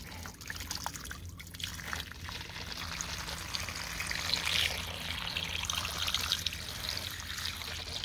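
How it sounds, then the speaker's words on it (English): Water pours and trickles steadily over tumbled quartz and jasper rocks during a rinse, a continuous close splashing stream with small clinks and drips, no voices. "I'm about to rinse them off after they've been through the second phase."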